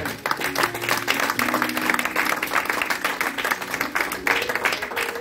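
A church congregation applauds during a service, with dense, steady clapping that holds for several seconds and possible faint voices mixed into the crowd noise.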